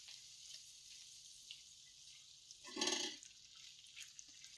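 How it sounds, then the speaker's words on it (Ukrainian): Steady sizzling of forest mushrooms frying in a pan, with a brief louder burst of stirring and scraping partway through as sour cream is mixed in. "Грибочки гарно вже підсмажилися, додаю ложку сметани і все ретельно перемішую."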